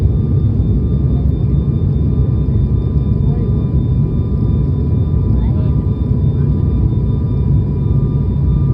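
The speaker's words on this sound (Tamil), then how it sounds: "லேண்ட் ஆக போகுது." Steady, loud low-pitched roar inside the cabin of an IndiGo passenger airplane on its approach to landing, a constant engine and airflow drone with faint thin whines above it that holds unchanged throughout.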